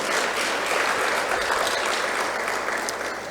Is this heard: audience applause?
yes